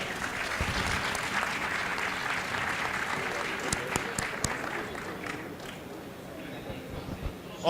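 An audience at a conference panel applauding steadily, a dense wash of clapping that gradually thins and fades, with a few louder claps standing out.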